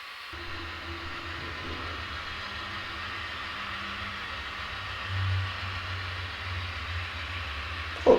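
A model train on a BNSF-themed layout hums and whirs steadily along a track for several seconds, a low continuous drone with faint rattling, ending in a sharp click.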